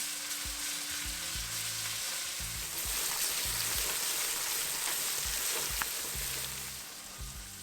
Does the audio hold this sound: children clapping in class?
no